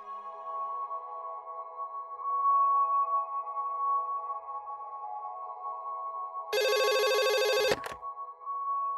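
Telephone ringing on a call placed to an office: a steady electronic tone runs throughout, then a louder, harsher ring bursts in for about a second near the end before the line tone resumes.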